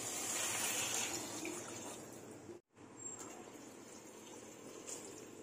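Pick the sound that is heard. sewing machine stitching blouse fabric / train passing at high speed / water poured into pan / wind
water poured into pan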